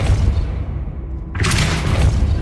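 A Depulso spell in Hogwarts Legacy lands with a sudden loud booming impact after a quieter lead-in, a single burst followed by sustained rumble.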